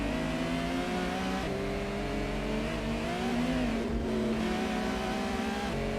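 A race car engine in Gran Turismo drones loudly and steadily, its pitch shifting through gear changes and rising revs as another car moves alongside and passes, with no talk.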